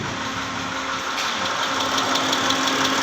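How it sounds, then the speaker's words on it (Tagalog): A 2010 Mitsubishi Pajero with a 6G74 V6 engine runs steadily with a knocking fault, a continuous close engine drone carrying a rough, rapid tapping inside the motor, with no talk. "umaandar itong sasakyan o itong makina, pero merong knocking sound sa loob ng engine."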